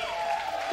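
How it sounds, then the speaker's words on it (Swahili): Church congregation clapping during a lively worship service, a dense steady wash of applause filling the whole short moment with a voice tone running faintly underneath. "Pigia Yesu makofi mengi sana."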